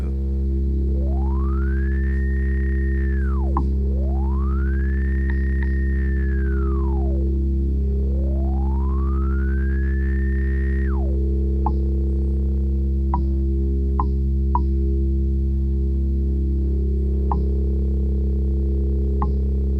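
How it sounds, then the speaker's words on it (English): A pure sine-wave tone from a modular synthesizer swoops up and down in three slow sweeps over a steady low drone, then settles into a sustained hum with faint clicks. "now that I'm using the sine wave"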